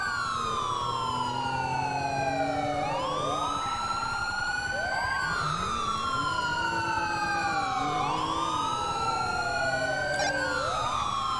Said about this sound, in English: I don't know if she can't hear me over the sirens or what.